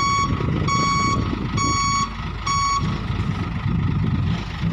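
Hino dump truck reversing at a land reclamation site near a jetty, its engine rumbling steadily while a loud reversing alarm beeps in a regular repeating pattern.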